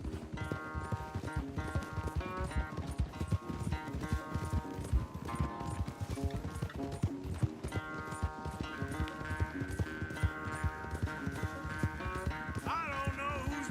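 Horses galloping hard in a race in Red Dead Redemption 2, a dense continuous drumming of hooves with a whinny near the end, under a music score.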